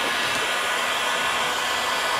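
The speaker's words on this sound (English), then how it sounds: "I got my heat gun. It's a cobalt, so it gets really, really hot." A Cobalt heat gun runs alone with a steady, close, loud blowing roar that holds unchanged from start to finish, with no talk over it.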